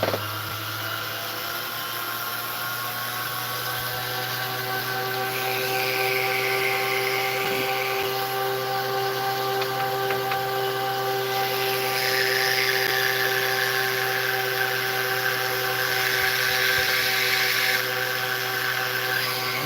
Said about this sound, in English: tapered cylinder burr. This just helps me make prongs.